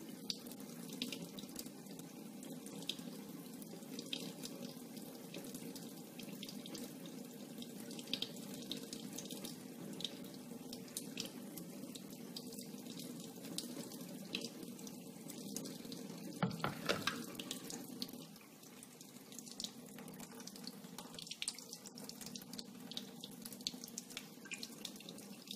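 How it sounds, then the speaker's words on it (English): Hot water poured from near range over a cut glass bottle to loosen and separate the scored parts, a steady splashing, trickling flow running continuously with a brief louder burst near the middle and slightly softer pouring afterward. "So when I pour hot water right there, there's a good chance this thing is just going to fall right off."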